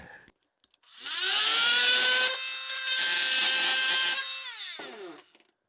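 A Sawzall reciprocating saw rips through nail-studded wood in one sustained, loud cut lasting several seconds, its whining motor tone shifting in pitch as the blade works, then winding down abruptly.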